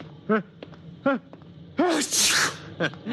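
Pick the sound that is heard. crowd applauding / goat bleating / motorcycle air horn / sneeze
sneeze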